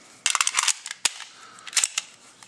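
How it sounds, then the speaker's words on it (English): Metallic clacks from a Heckler & Koch P7 M13 pistol as the grip lever is squeezed and the slide drops, a cluster of sharp, loud close clicks followed by a few more separate snaps. "You just squeeze this lever on the front of the grip."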